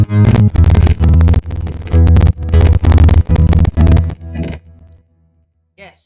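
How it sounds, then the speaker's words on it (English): Isolated bass track from a song, punchy distorted bass notes in a steady rhythmic pattern, loud and close, cutting off into near silence for the last second or two. "Next up, I think is this the bass?"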